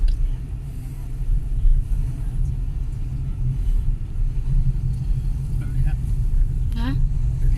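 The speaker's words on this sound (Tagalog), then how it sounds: "Traffic in Denmark." Road traffic in Denmark heard from the roadside, a continuous low rumble of passing cars with steady engine noise and a faint higher whine near the end.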